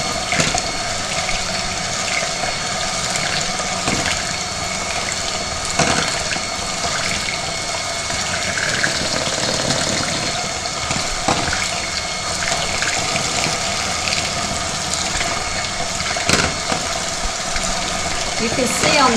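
A loud, steady whirr from an electric whisk beating batter for toad in the hole at increased speed, running continuously throughout.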